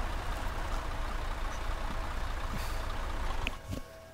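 A vehicle engine in the video game Arma 3 rumbles steadily at moderate distance, with a few faint high beeps near the end as the noise drops.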